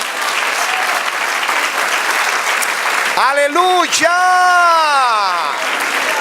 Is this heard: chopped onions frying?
no